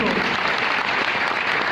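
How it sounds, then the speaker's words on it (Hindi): Steady, dense applause from a seminar audience fills the whole moment, loud and close, with many hands clapping at once and no break. "मेरे गुरु के लिए चाहूँगा जोरदार ताली होना चाहिए दोस्तों"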